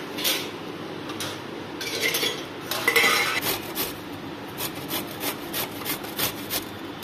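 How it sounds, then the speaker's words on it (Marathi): Steady rhythmic scraping of raw mango being grated against a metal grater, with light clinks of utensils, close and fairly loud throughout. "आता आपण कैरी किसून घेऊया।"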